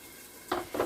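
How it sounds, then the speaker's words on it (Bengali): Soft frying hiss of potatoes and plantains with black cumin in a pan, with two brief bursts of stirring scrape toward the end; no talking. "কয়েকটা আলু কেটে দিয়ে এখানে ভাজা করছি কালো জিরে দিয়ে"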